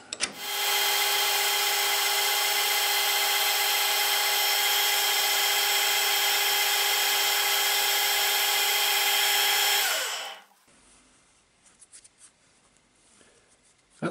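High-speed steel tool cutting soft steel on a lathe while turning a live centre from scrap, a loud steady metallic ringing whine for about ten seconds that stops abruptly, leaving faint workshop noise.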